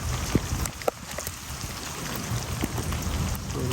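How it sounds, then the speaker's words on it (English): Heavy rain pouring during a monsoon storm at an outdoor civic center mall, a dense steady hiss with scattered sharp drips and splashes close by, no talking. "The storm should be slacking off here a little bit, I believe."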